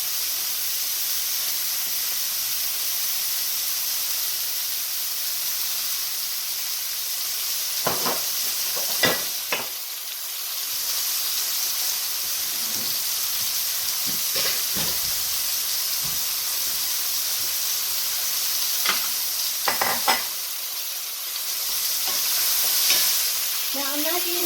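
Kale and mushrooms fry in oil in a keto dish, sizzling steadily while a utensil stirs and scrapes through them in occasional clattering bursts.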